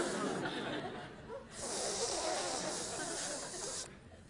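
A loud, sustained hissing rattle made by a voice imitating a rattlesnake, with a brief break partway through, up close and alone.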